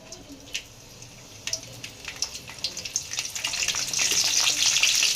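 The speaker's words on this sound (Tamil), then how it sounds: "எண்ணெயில் வந்து சூடானோடனே பட்டை, ஏலக்காய், லவங்கம், அதுக்கடுத்து கருவேப்பிலை போட்டுக்கலாம்ப்பா" Cinnamon, cardamom, cloves and curry leaves crackle and sizzle in hot oil, starting with scattered pops and building into a dense, louder hiss with frequent spits toward the end, close up and with no talking.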